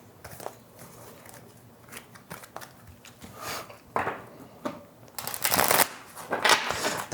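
Tarot cards are shuffled by hand in bursts of papery riffling and flicking, growing louder and denser toward the end, close to the microphone with no talking.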